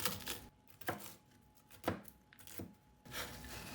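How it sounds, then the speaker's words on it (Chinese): Walnut kernels for a pepper-and-salt mooncake filling are chopped on a board in several distinct knife strikes, irregularly spaced and fairly close, with no voices. "核桃仁同样的方法来给它研碎"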